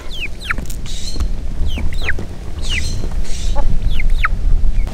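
Several chickens cluck and squawk in repeated short, rising calls while they feed together outdoors in extreme heat, with a steady low background rumble underneath.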